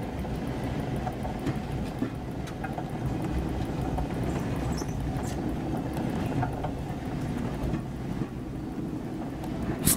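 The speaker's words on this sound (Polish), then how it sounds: "Włączaj traktorek." A tractor engine in the video game Syberia 3 runs as a steady, fairly loud low rumble with a broad mechanical roar that holds for the whole stretch, with no talking over it.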